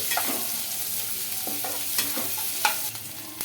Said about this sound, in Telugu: కరివేపాకు ఆనియన్స్ ఎండుమిర్చి పచ్చిమిర్చి అయితే వేసుకున్నానండి ఇవి కొద్దిగా బ్రౌన్ కలర్ వచ్చే వరకు ఫ్రై చేసుకున్నామండి